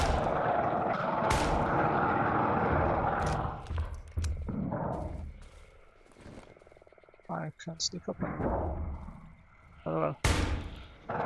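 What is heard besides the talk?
gunshots in the video game Darkwood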